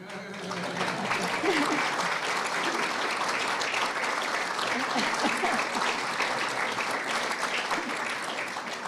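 Applause from the audience at a Friends of Ireland luncheon with the U.S. President and the Irish Prime Minister, thick and continuous clapping that holds steady throughout, with faint voices underneath.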